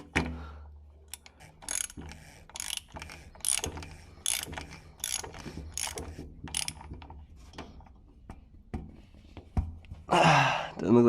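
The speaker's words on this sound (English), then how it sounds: "Looks like we just need to slide it up and then tighten her on." A ratchet clicks in short bursts while tightening the plastic oil filter cap on a C8 Corvette Z06 during an oil change, with sharp clicks and pauses in a quiet garage.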